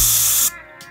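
A canned-air blowout of a drone motor, a loud, close, steady hiss of spray that cuts off abruptly after half a second, followed by a brief faint puff.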